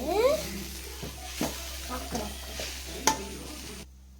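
Chapati noodles with coriander stirred in a frying pan: a light sizzle under a series of spatula scrapes and clinks at an uneven pace, then sudden silence at the end.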